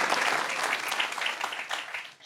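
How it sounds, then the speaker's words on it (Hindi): Studio audience on an Eid special comedy show claps in a brief, dense burst of applause that fades out at the close. "तालियां भाई, क्या बात, नाम तो अच्छा बता दिए।"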